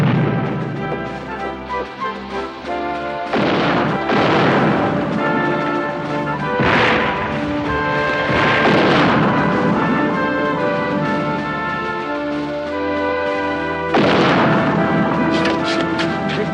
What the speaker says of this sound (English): They're firing on us from Dorchester Heights.